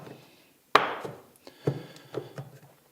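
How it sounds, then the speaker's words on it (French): A small clamp is tightened against a stop on a radial arm saw bench, with a sharp wooden knock followed by a few softer clicks and taps as the screw is turned, close and fairly quiet. "mon serre-joint, on va le serrer assez fort"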